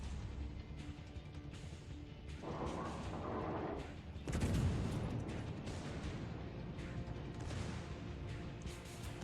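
Ship secondary guns firing in World of Warships, a rumbling run of muffled blasts and booms with a heavy burst midway, layered over ongoing game noise and faint voices.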